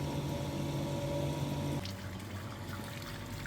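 Power flush pump pushing water through a Boilermate 2000 thermal store heating system, a quiet steady hum with trickling water that drops to a softer flowing wash partway through.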